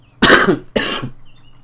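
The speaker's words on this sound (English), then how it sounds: "Oh dear, the coughing's going to start" Two loud, harsh coughs in quick succession, close up, followed by quiet.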